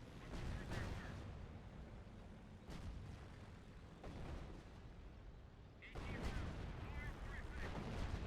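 Artillery in the Company of Heroes Caen battle sounds as a steady low rumble, with repeated booming shots and blasts at roughly one- to two-second intervals. A voice talks over it.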